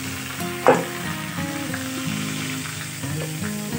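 A rohu fish head fries in a pan over a lowered flame, a steady close sizzle running throughout, with one sharper spit or pop early on and a faint tonal hum beneath.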